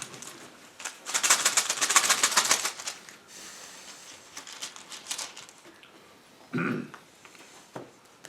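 Rune stones rattle and clatter together in a busy burst of shuffling, then scattered clicks and a single knock follow against a quiet room.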